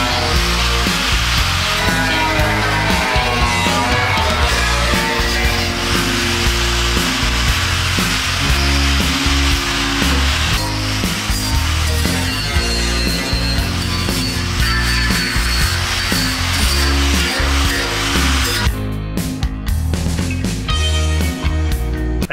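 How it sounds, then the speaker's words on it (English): A grinder runs continuously as it grinds down welds on a truck, producing a steady high whine with rough, scraping variations in pitch as the disc bites into the metal, loud and close throughout. "So you can go at it with the grinder"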